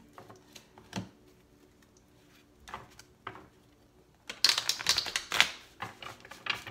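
Tarot cards are shuffled by hand close by. Soft, scattered taps lead into a brief cluster of quick, crisp riffling clicks, and the whole sound stays quiet.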